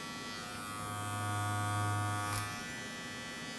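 An adjustable electric hair clipper hums steadily at close range while trimming a beard, its buzzing tone swelling slightly in the middle and then settling back, with no talking.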